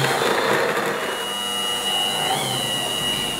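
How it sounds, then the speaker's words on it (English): A motorized hand blender whirs steadily mixing white chocolate mousse, its pitch wavering slightly as it mixes, with no talking. "we're going to use our blender, our hand blender, and we're going to start mixing it together"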